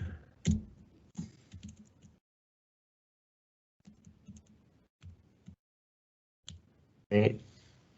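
Short bursts of computer keyboard typing with soft clicks come and go between gaps of near silence, close and faint, while a voice talks at times.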